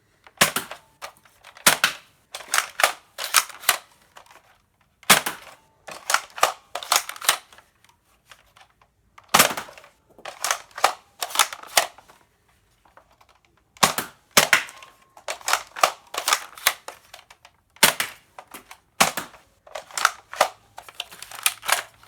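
Toy blasters fire bullets in quick bursts, sharp loud snapping shots, often in rapid pairs or triplets, separated by short quiet pauses between volleys.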